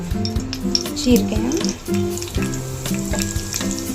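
Ingredients dropped into hot oil spatter for tomato chutney, a loud, close crackling sizzle with popping bursts and some stirring and pan knocks throughout, no voices.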